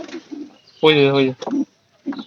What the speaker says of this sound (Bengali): কবুতরের ডাক ভেঙে থাকে